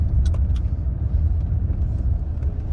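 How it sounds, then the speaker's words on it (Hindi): Steady road traffic rumbles along National Highway 3 in Ladakh, a continuous low drone of passing vehicles with a few faint higher clicks, no voices. "ये देखिए ट्रैफिक रोड पे।"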